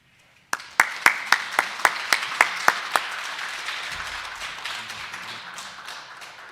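A church congregation at a Sunday service applauds to welcome a retired guest pastor: about ten sharp, evenly spaced claps ring out first, then melt into a steady, softer wash of scattered applause.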